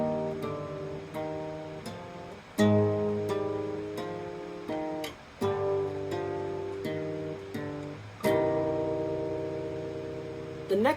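An acoustic guitar plays an outro chord passage, fingerpicked notes ringing out and then strummed chords struck firmly, the sound quiet and close.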